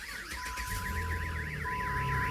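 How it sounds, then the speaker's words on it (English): An aftermarket car alarm sounds close and loud, a continuous warbling electronic tone rising and falling in steady cycles, with a car engine idling underneath. "The aftermarket alarm going off now."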